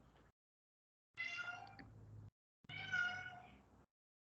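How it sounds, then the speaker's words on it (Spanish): A cat gives two drawn-out, wavering meows one after the other, each lasting about a second, against a quiet room. Faint and slightly distant, with a brief murmur just before. "Quizás escuchen a un gato porque parece que no está de acuerdo con las palabras finales"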